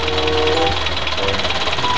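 A toy tractor's motor whirs and buzzes steadily as it drives over a ramp, with a faint rattling texture throughout and a voice talking over it.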